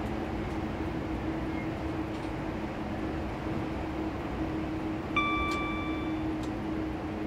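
Low steady rumble of a train coasting with power shut off on the Kings Cross to Peterborough line in Train Simulator 2016, with soft rhythmic wheel ticks and a brief tonal beep near the end.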